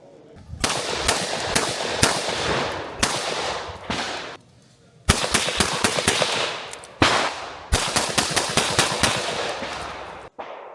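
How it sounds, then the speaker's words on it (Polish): Suppressed gunshots fired close by at a shooting range, testing micro, compact and full-size suppressors, in several quick volleys, each a rapid string of sharp cracks with short pauses between groups. "strzeliłem po kilka strzałów sobie z każdego tumika"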